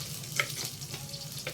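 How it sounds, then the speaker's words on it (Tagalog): Noodles for pancit bato fry in a pan, a soft continuous sizzle with scraping stirs and light clatters of the utensil, heard up close and fairly quiet. "Prito na natin siya para mamaya"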